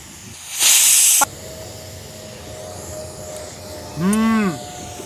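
A pressure cooker full of peas vents steam in a loud, sharp hiss lasting about half a second, then gives a shorter whistle-like blast a few seconds later.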